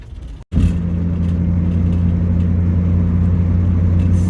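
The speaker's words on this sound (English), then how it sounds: "Driving down the 101 through California." A car drives along Highway 101 in California, a deep steady road rumble and engine drone heard from inside after a brief cut near the start, loud and constant.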